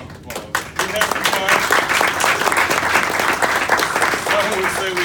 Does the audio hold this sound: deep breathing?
no